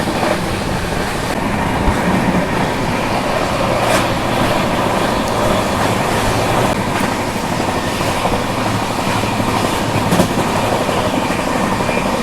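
The Patna Howrah Janshatabdi train rolls into a junction with a steady, loud rumble of wheels on the rails and faint clicks, heard from on board.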